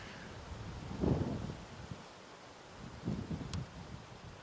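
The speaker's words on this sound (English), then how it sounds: "Oh, it's so windy" Gusty wind buffets the microphone in low rumbling bursts on a morning safari drive at Ngala Private Game Reserve, with leaves faintly rustling; no one speaks.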